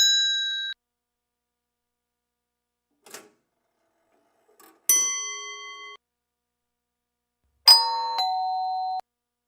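Several separate bell tones in a row: a bright ding, then after a gap a faint clink, then two louder metallic dings with ringing overtones that sustain and cut off, alone and fairly close.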